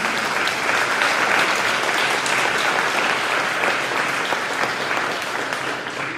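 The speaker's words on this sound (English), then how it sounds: "let's give a round of applause to Mr. Weiland" Applause fills an Oregon School District board meeting room, dense and even clapping from the gathered audience that holds steady for several seconds.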